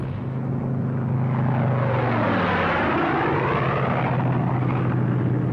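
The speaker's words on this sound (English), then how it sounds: "the Thunderbolt was the largest of all the Allied single-engine fighters" A World War II P-47 Thunderbolt single-engine fighter: a loud, droning propeller engine roars steadily, its pitch sweeping as it passes, with no voices.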